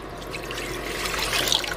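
Water pours into a cooking pot along with sugar in a steady, close trickle that swells slightly toward the end, with no voices over it.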